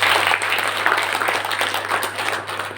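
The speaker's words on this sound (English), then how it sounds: "Can you clap once for this person?" Workshop participants at an entrepreneurship idea-evaluation session applauding a suggestion: sustained, dense clapping from a room full of people at fairly high volume, steady throughout, over a faint constant electrical hum.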